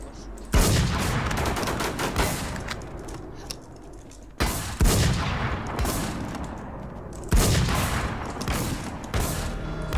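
Rapid automatic shotgun fire in a zombie shooter game, three long dense bursts of loud continuous blasts separated by brief breaks, filling the whole stretch.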